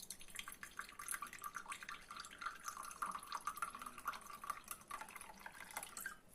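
Vinegar is poured into a pepper marinade in a home kitchen, a faint, continuous trickle of liquid with light dripping and splashing that keeps going throughout.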